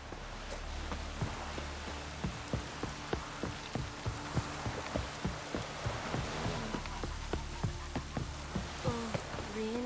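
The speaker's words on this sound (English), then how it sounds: "Oh, raining again." Rain falls steadily in the video game The Witcher 3: Wild Hunt, a soft continuous patter with regular dull thumps of drops hitting surfaces, faint and even, and no one talking over it.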